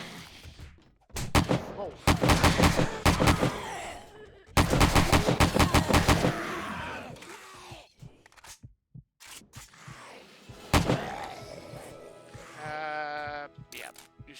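Gunfire in the video game 7 Days to Die: bursts of rapid automatic shots in several volleys, loud and close, with short pauses between them and a brief exclamation from a player.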